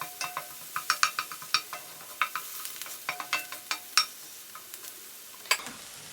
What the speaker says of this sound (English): As usual, we'll be starting off with coconut oil, and to that we are going to add some chopped onions.